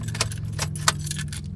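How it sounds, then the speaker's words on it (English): A key being pulled from the ignition of a 2013 Toyota Tundra, with close metallic jingling and clinks of the key ring over a low steady hum from the cab. "Take the original key out."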